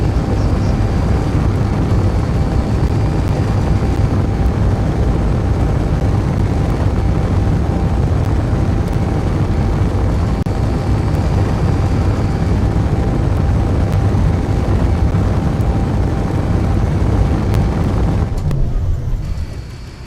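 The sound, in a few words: missile launch and fireball explosion in Space Engineers video game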